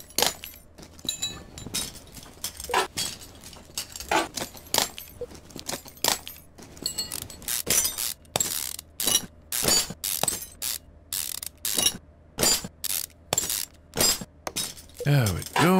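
Spark plugs being removed in Car Mechanic Simulator 2015, a rapid run of sharp metallic clicks and clinks in irregular bursts, loud and close, with someone talking between them.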